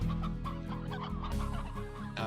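A hen in the video game Slime Rancher clucks repeatedly in short, close, rhythmic bursts, fairly loud and uninterrupted by speech.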